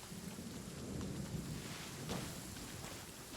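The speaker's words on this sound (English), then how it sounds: "It's raining again." Steady heavy rain hisses with a low rumble of thunder rolling underneath in Genshin Impact, loud and continuous throughout.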